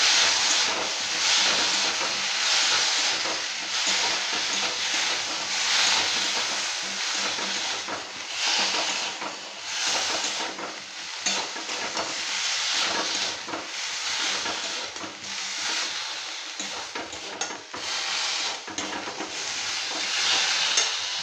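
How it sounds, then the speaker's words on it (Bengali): Potatoes already fried golden now frying with ginger paste and a splash of water as the masala is cooked down, giving a steady hiss and steamy sizzle with occasional stirring scrapes throughout, no voices. "একটু জল দিয়ে দিচ্ছি, দিয়ে ভালো করে কষিয়ে নেব মশলাটা"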